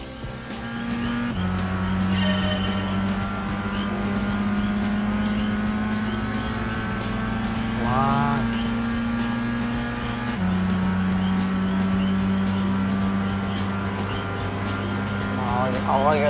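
Race cars roar around a track in the Gran Turismo 5 video game on PS3, with steady loud engine drone, gear-shift changes and brief tire squeals, someone talking over the continuous racing sound.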